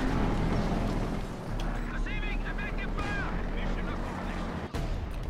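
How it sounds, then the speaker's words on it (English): Indirect fire from a mortar and an SU-76 barrage in Company of Heroes 2, a dense rumble of artillery-like blasts and battle noise running throughout, with a brief sharp impact near the end and a commentator talking over it. "So we have indirect fire in this case from both the mortar and SU-76 barrage."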